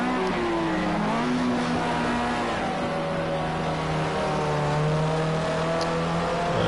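Race cars in a PS4 racing game, with a continuous loud engine whine from a car in another's slipstream whose pitch climbs and levels across gear changes, steady throughout with no voices.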